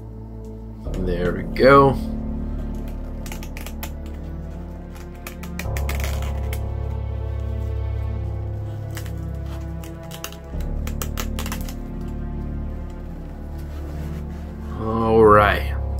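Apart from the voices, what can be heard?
cutting the seal on a Resident Evil Village collector's edition box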